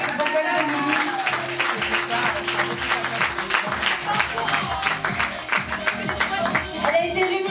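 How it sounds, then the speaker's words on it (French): Applause for Miss Bourgogne 2008 at the 30th anniversary gathering of the Miss Bourgogne committee, a crowd clapping steadily and densely throughout with voices talking over it. "on l'applaudit encore"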